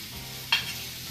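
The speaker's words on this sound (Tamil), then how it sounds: "தக்காளி எல்லாத்தையும் போட்டு நல்லா வதக்க ஆரம்பிச்சுங்க." Potato, carrot and tomato sautéing in a pan for rava kichadi, a soft sizzle with one sharp stirring scrape partway through, quiet and close.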